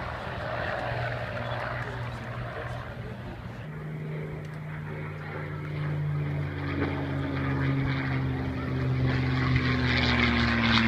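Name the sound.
P-40 Warhawk propeller plane flying at an airshow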